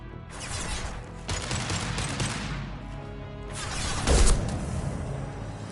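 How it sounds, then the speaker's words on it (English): Video game gunfire rattles in dense bursts with crashing impacts, loud and sustained, with a heavier blast near the end. "shooting"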